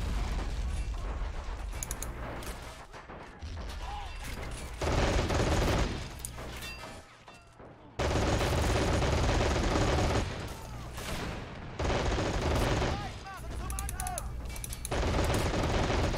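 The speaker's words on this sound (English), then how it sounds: "Heavy MG over there is a problem." Heavy machine gun fire in a war video game, loud sustained bursts of rapid shots repeating in waves across the stretch with short lulls between, dense and close, with occasional voices underneath.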